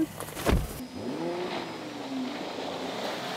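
A Mercedes E-Class 4x4 prototype car drives off-road on rough terrain. A brief louder rumble comes first, then a steady engine hum holds close by with rising and falling tones.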